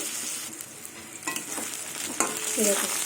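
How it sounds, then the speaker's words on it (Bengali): Bottle gourd greens fry in a covered pan, giving a soft, steady sizzle broken by scraping stirs and clatter. No one speaks. "এবার আমি ঢেকে ঢেকে সবজিটা ভেজে নেব"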